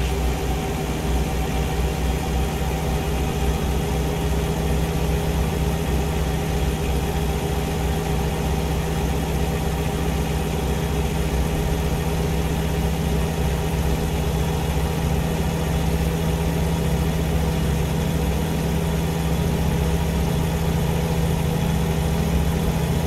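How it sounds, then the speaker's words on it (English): A steady, deep engine rumble drones on without a break, a low idling truck motor in American Truck Simulator with a constant hum and faint vibration. "I do like that rumble of the motor up there."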